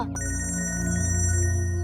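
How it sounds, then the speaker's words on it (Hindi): A mobile phone ringtone rings loudly and steadily on a train, its sustained electronic tones playing continuously without any talk over it. "आपका फोन बज रहा है।"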